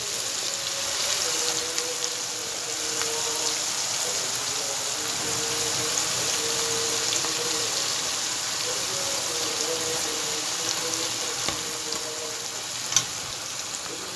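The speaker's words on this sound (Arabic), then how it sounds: "وادي الزيت سخن. هنزل بقى بالبصل." Onions fry in hot oil, giving a steady, bright sizzling hiss with faint crackles that runs unbroken from start to finish, with no talking.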